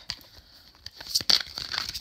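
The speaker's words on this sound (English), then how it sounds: "I haven't brought it out very much, so it's a little tough to shuffle" Cards from a stiff, little-used Guardian Angel Tarot deck being shuffled, giving close, quiet riffling and crinkly paper flicks that build to a brisker burst of card noise toward the end.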